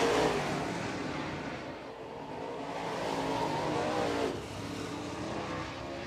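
Modified race cars run hot laps at East Bay Raceway Park during WinterNationals week, a continuous loud engine roar that swells and fades as the cars circle the track, with no talk over it.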